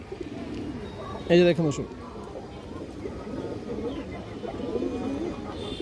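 Old-bloodline pigeons coo in a low, rolling murmur close by, running beneath a man's speech that bursts out loudly partway through.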